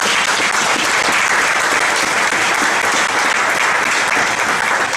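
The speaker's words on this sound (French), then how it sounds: "Est-ce qu'on peut acclamer la parole de Dieu?" A church congregation applauds at a sermon, a loud, dense, steady roar of clapping that fills the room without pause, with no talking over it.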